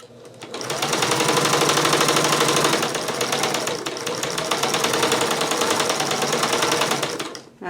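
A sewing machine runs steadily, stitching a quarter-inch seam along a row of a jelly roll quilt top, its rapid needle chatter loud and close for several seconds before stopping.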